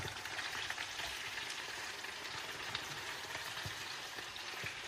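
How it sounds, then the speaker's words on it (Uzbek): Eggplant frying in a pan gives a steady, close sizzle with soft crackles throughout, with no talking. "baqlajonimiz qovurish davom etyapti"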